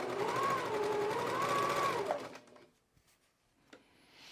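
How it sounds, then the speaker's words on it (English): A sewing machine runs steadily while chain piecing quilt fabric, a continuous whirring hum for about two seconds, then stops, leaving quiet handling clicks and faint rustles. "stopping with my needle down, grabbing the next piece and sewing all the way to the bottom of this column"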